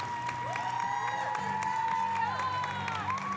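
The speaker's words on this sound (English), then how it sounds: "How about a round of applause for all of these great athletes and their coaches." A crowd applauds and cheers for high school volleyball athletes and their coaches at a league bracket championship in a gym, with whistling tones and shouts rising over a steady bed of clapping and crowd noise.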